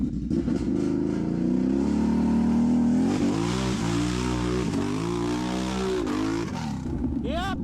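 A Can-Am Renegade 1000 ATV in four-wheel drive roars close by. Its engine revs rise and fall steadily as it drives through thick mud, and a voice is faintly present under the engine noise.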